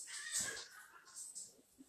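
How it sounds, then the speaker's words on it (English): Cats argue with a short, faint burst of yowling and caterwauling cries lasting about two seconds, heard alone. "If you heard that, that was cats, like, arguing."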